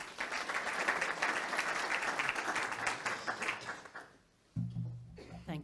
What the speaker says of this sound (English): a round of applause for Tracy Gaudry